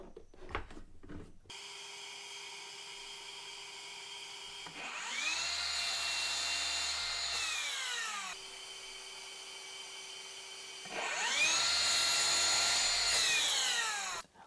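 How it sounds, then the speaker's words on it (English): Two long passes of a power saw cutting oak for a desk lamp, each a loud whining cut that rises, holds steady for a few seconds and dies away, separated by the motor running idle in between. "So I'm going to do all that on the miter saw."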